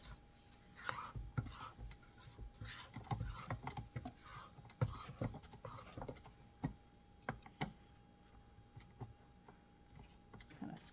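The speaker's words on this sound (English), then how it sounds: "Just kind of scraping my spatula on the beater" A spatula scraping and tapping against a mixer beater while mixing pistachio chocolate brownie batter, quiet irregular clicks and scrapes, close and soft, with faint speech at times.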